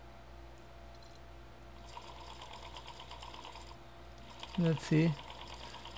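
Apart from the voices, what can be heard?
DC motor running on PWM speed controller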